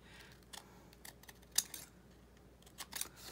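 Scissors cutting strips of paint chip card, close and fairly quiet, giving a scattered series of crisp snips and short slicing swishes, with louder clicks near the middle and the end and no talking.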